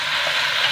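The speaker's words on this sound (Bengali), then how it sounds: "বেশ খানিকক্ষণ ধরে মশলাটাকে, তিল বাটা টমেটোটাকে কষে নেব।" Ground sesame and tomato paste fry in a pan for a Bengali okra dish, giving a steady, close hissing sizzle without pause.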